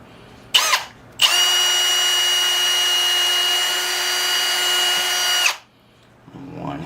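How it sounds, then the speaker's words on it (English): A power drill boring screw holes into a bonsai temple ornament, one short burst and then a long steady whine lasting about four seconds, loud and close. "I'm going to drill some holes for the screws,"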